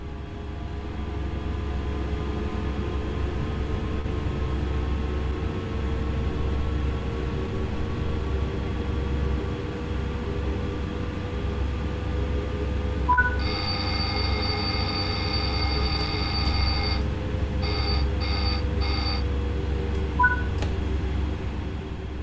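Train accelerating in Train Sim World 6 on the Zwolle to Groningen line: a steady low rumble with rising whine, broken midway by repeated electronic alarm beeps in short bursts.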